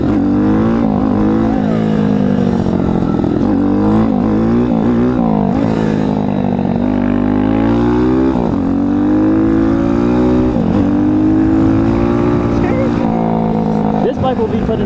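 An Apollo RFZ Chinese dirt bike engine runs steadily at close range, its tone rising and falling with throttle changes throughout, loud and unbroken.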